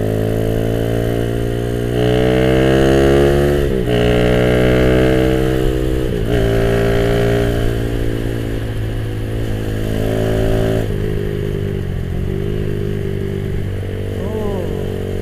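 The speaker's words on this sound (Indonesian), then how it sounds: "kita coba dulu ya dari tarikan dari si motor kesayangan saya ini" A Suzuki Satria FU 200cc motorcycle revs hard on a test ride, its loud engine climbing in pitch through repeated gear pulls, with short dips between shifts and a steady close drone throughout.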